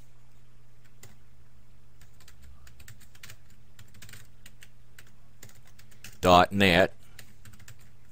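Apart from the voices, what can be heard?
typing on a computer keyboard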